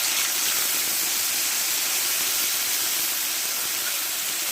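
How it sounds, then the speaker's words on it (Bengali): Whole cumin seeds and a ground paste of ginger, green chili and cumin sizzle in hot oil, giving a loud, steady broadband hiss that fills the whole stretch without any voice. "এবারে এই তেলে আমি কিছুটা গোটা জিরে দিয়ে দেবো"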